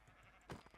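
A sheep bleats in the Minecraft survival game, one short loud burst in the middle of a quiet stretch of game ambience.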